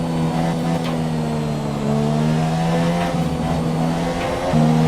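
An F1 car in the F1 2017 video game at Bahrain drones with a steady high engine note, pitch stepping down as it downshifts to slow for corners, loud and continuous.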